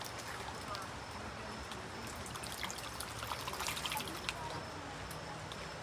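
Water sloshes and trickles over gravel being swirled in a gold pan at a gold mine, washing off light material in a steady, continuous wet rush.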